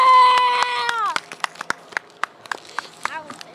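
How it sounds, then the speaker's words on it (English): At an outdoor Founders Day street gathering, a loud shout is followed by a small group clapping for a young athlete: crisp, evenly spaced claps in a steady rhythm that slowly lose their drive. "Let's clap it up for Nick."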